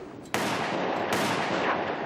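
A shotgun fired at cormorants produces two loud, close blasts roughly three-quarters of a second apart, each with a long ringing decay, and no talking.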